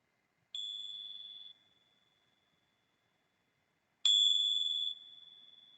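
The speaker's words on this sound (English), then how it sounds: "with the sounds of the bell." A meditation bell is struck twice, a few seconds apart; each clear, high tone rings out and slowly fades in otherwise quiet surroundings.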